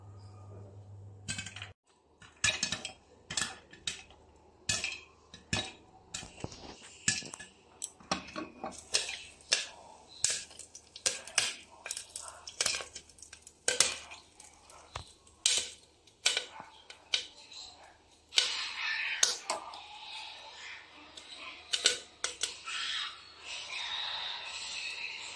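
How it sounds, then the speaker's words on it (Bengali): Popcorn popping in a covered pan, sharp irregular pops and ticks scattered across the whole stretch, starting sparse and then coming faster and denser, fairly close but not loud, with no talking. "আর এই যে আস্তে আস্তে আমার পপকর্ন ফুটে যাচ্ছে।"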